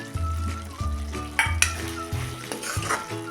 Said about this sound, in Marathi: भाजी कशी आपली छान शिजली आहे चांगले हलवून घ्या